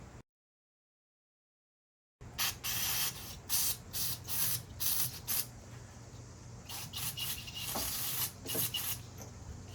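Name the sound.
spraying through a VW Beetle fuel line with a nozzle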